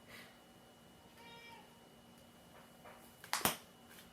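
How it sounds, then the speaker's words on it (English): Tuck, a pet cat, gives a couple of soft, near meows in a quiet indoor room, followed by a brief sharp snap-like click near the end. "That's my cat Tuck."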